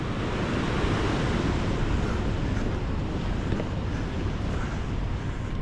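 Storm-driven sea swell and surf wash against a North East UK fishing cliff, a dense continuous roar mixed with wind buffeting the microphone.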